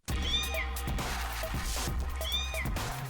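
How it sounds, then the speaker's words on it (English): A domestic cat gives two short, clear meows spaced about two seconds apart, close and fairly loud, with a low background hum and no talking. "One of the most recognizable sounds is the short meow."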